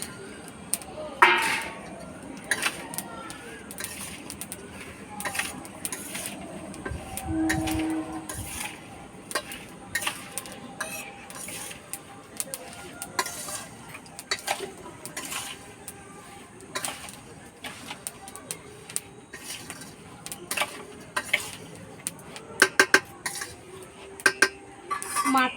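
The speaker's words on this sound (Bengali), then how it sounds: "এবার আমগুলো দিয়ে মাখিয়ে নেব।" Mango pieces being mixed by hand into oily pickle spices for a sour-hot achar, with soft wet squelches, scrapes and occasional light clinks of a utensil against a bowl, close and steady, no talking.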